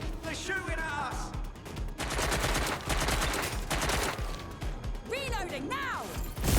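Enemy gunfire in the video game Watch Dogs: Legion: bursts of rapid automatic shots and crashing impacts, loud and close, with game sounds over the top.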